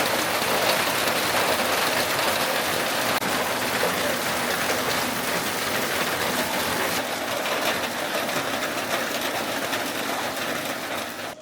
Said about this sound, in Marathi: पावसाची शूटिंग करून घे बघायला